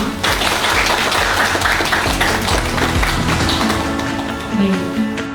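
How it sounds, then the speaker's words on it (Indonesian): An audience at an Indonesian community program event claps together in steady, dense applause that fills the space continuously, loud and unbroken, with some voices mixed in. "Tepuk tangan dulu untuk kita semua."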